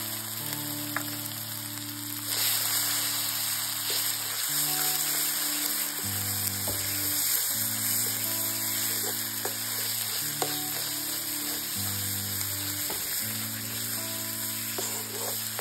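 A masala paste of roasted onion, garlic and coconut sizzles steadily as it is sautéed with onion and tomato for a Konkani-style fresh cashew curry, with background music playing throughout.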